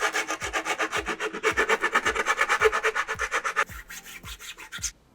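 An 80 grit sanding stick scrubs flashing off a Mandalorian heavy infantry helmet in quick rhythmic back-and-forth strokes, about twenty close rasping passes that ease slightly near the end.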